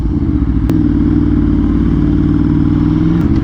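A 1000 cc Aprilia RSV4 sportbike on a street ride, its engine droning loud and close at a steady pitch with a slight dip before settling, a couple of sharp clicks near the start and end.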